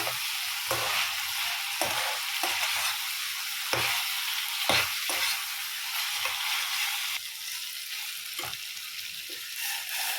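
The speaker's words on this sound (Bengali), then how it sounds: "দশ মিনিট পর ভালো করে মাংসটা কষিয়ে নিচ্ছি" Mutton is stir-fried (kosha) in a pan over a medium flame, giving a steady loud sizzle broken by repeated scraping and stirring knocks, with no voices.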